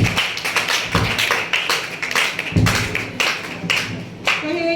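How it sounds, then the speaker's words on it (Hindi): A congregation at a Hindi-language church service applauds itself, a dense stretch of claps with sharp slaps rising and falling throughout, near and fairly loud, with a few brief vocal sounds near the end. "अपने लिए तालियां बजाइए।"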